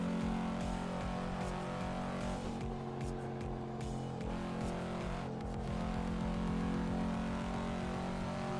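A 2005 Volvo S60R in Assetto Corsa holds a steady, fairly quiet engine drone with layered harmonic tones and a slight dip and swell in pitch, running continuously throughout with no speech.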